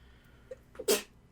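A single sharp sneeze bursts out after a brief inhaling catch, loud and close, then quiet.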